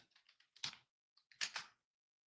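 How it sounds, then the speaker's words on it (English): Typing on a computer keyboard, a close, quiet run of light key clicks followed by a pause and then a denser burst of louder keystrokes, with no talking. "Maybe I should just type in."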